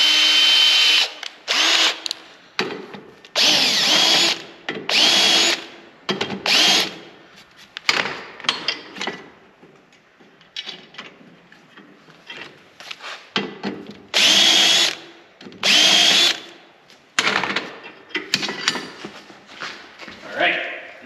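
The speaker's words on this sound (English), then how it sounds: "I'm just gonna deburr those two." Power tool deburring metal parts for a DIY power hammer kit, running in repeated bursts of several seconds each with short gaps between, loud and close, with some talking in between.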